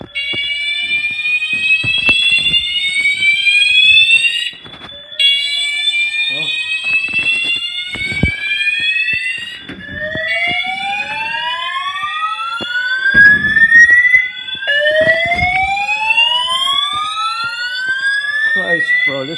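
A building fire alarm system blares loudly and continuously in repeating rising electronic sweeps, with people talking under it.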